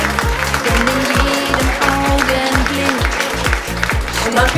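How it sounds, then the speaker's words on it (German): Applause from a TV studio audience at a Schlager party show fills the space, a steady wash of clapping heard over loud rhythmic music with a thumping beat. "nochmal ein großes Applaus für unsere ganzen Künstler"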